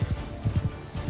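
Horse hooves clip-clopping in a Mount & Blade II: Bannerlord battle, a quick rhythmic series of hoofbeats in pairs, moderately loud and close, with no other sounds competing.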